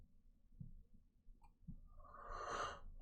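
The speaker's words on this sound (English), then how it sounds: "Now it's a yawn attack." A person lets out a long, drawn yawn. Soft breathing and small snorts come first, then a deep inhale swells into a strained, voiced stretch near the end, quiet and close.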